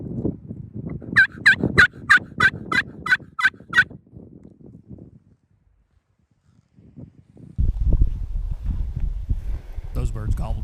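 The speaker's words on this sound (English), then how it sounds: "Got a handful of turkeys gobbling all around us." Wild turkeys in Hawaii gobbling during a hunt, a burst of about eight rapid gobbles close by, then fainter calls amid wind noise, with people talking quietly over parts of it.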